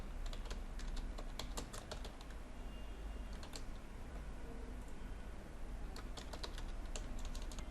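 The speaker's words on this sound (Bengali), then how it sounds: "প্রয়োজন মতো টাইপ করতে পারি।" Keys clatter on a computer keyboard while text is entered in Microsoft Word, in quick bursts of light clicks separated by short pauses, quiet and close with no voices.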